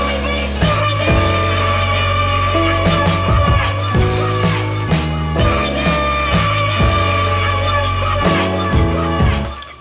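Guitar chords through a Guitar Rig Fender American Clean preset in a beat, strummed rhythmically with sustained bass tones, steady and loud.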